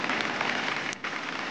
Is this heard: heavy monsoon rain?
yes